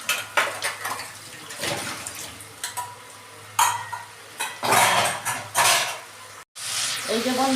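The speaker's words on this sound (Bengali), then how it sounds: "আমি বাটি ধুয়ে জল দিচ্ছি অল্প।" A bowl rinsed out with water in a kitchen, running water splashing in uneven bursts with clattering dishes and utensil knocks nearby, a steady low hum beneath.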